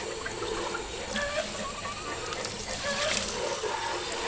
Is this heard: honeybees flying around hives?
no